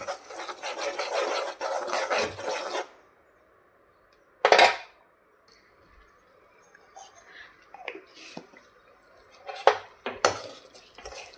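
Moong dal roasting in a pan for moong dal halwa, with a spoon scraping and rasping against the metal in bursts, loud at first, then sparse scrapes and clinks after a pause.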